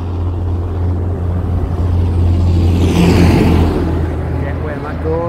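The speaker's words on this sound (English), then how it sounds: "oh, there's a tractor coming." A tractor drives past a countryside spot, its engine rumble steady at first, then swelling loudly as it nears before easing off.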